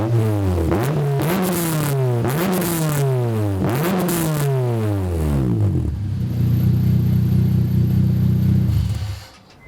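A loud K-swapped Honda Integra Type R revs hard through repeated upshifts, each pull climbing in pitch then dropping, before settling into a steady rumbling drone that cuts off at the end.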